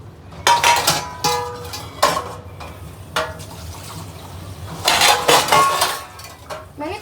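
Dishes, pots, cups and glasses clatter and clink as they are washed under running water, in several loud bursts of scraping and clanking separated by short pauses, with no talk.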